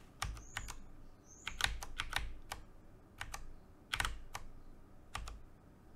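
Number keys on a computer keyboard are pressed in scattered, sharp clicks, some in quick pairs and bursts with pauses between, close and clear over a faint hiss.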